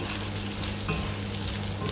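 Steady, dense sizzle of chicken frying in hot oil in a pan, a constant crackling hiss close up with no talking.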